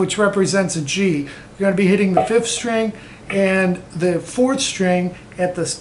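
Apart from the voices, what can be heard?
No everyday noises stand out.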